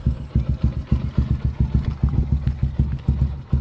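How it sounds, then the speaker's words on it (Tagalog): A motorcycle engine warms up at idle close by, giving a steady, rapid rhythmic putter of pulses with mechanical clatter throughout. "Pinapainit ko na lang yung makina"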